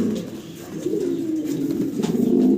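Bronze Art Angel pigeons, a fancy breed, coo in a steady low murmur, close and continuous, with no talk over them.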